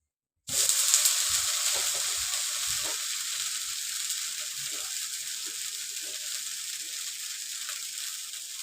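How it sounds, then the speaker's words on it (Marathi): Rice-flour ghavane batter roasting on a hot pan, a steady close sizzle that starts abruptly and holds throughout, with faint scraping clicks of a spatula in the first few seconds. "ते भाजायला द्यायचं हे बघा परतून घेते"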